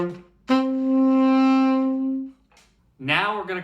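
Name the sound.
tenor saxophone playing the main riff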